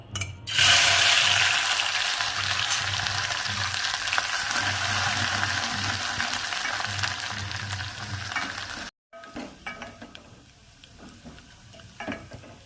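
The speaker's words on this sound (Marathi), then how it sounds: "तेल तापायला ठेवलं होतं आणि तेल तापलेलं आहे आणि हे आपलं वाटण असं तयार करायचं आहे आणि थोडंसं जाडसर ठीक आहे मी ॲड करते" A coarse ground spice paste for a pigeon pea and eggplant bhaji hits hot oil with a sudden loud sizzle that stays strong and steady, then drops to quieter crackling and stirring clatter near the end.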